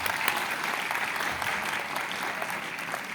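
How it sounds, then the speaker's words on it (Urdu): A hall audience at a Kips College March 23 celebration claps to welcome a finance director, a dense, even wash of applause held steady for the full stretch, fairly loud and close. "آپ کی جانب سے بھرپور تالیوں میں استقبال ہونا چاہیے ان کا ایک بار."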